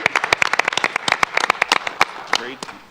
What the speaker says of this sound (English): one more round of applause for Chrissy.